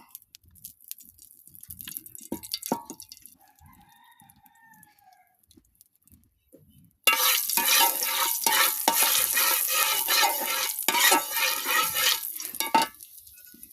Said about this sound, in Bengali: চুলোয় ফ্রাইং প্যান দিয়েছি এটা গরম হয়ে গেছে এখন তেল দিয়ে দিব